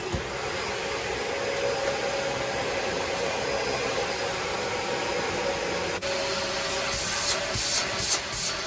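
A Dyson DC40 Animal upright vacuum cleaner runs with a steady high-pitched whine and airy suction roar, its tone shifting abruptly partway through as the air path changes, then continuing with rubbing noises.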